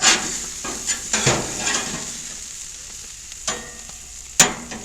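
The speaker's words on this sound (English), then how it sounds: "We got the grill fired up, got some hamburger steaks going." Hamburger steaks sizzling on a grill on the porch of an off-grid cabin, a constant hiss punctuated by sharp clanks and scrapes of a spatula, close and fairly loud.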